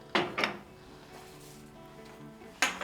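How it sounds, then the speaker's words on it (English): A wood-burning stove door is shut with two quick metallic-wooden clacks, then a quiet pause and another sharp clunk, close and moderately loud with no talking. "And once I close the door again, as it burns"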